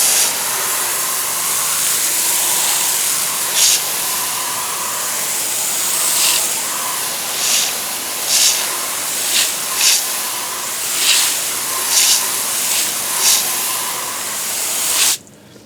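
A steady hiss of a water spray rinsing cleaner off a car tire runs loud and unbroken, with periodic brighter spurts as the stream shifts, ending abruptly, no talking.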